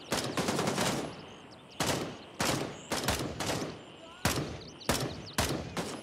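An AK assault rifle fires in bursts during a Gray Zone Warfare firefight, with loud, close rapid volleys and several separate short strings of shots. A voice speaks under the gunfire.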